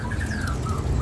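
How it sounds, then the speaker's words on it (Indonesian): A prinia songbird at a bird-selling kiosk gives thin, high chirps and a short whistled trill over a steady background hum. "Kita lanjut lagi ke bawah lagi, ada burung perenjak."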